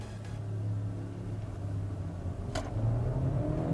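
Changan CS35 Plus subcompact crossover, 2021 model, accelerating hard in manual mode on an open road: a steady low engine rumble heard from inside the cabin, swelling slightly toward the end.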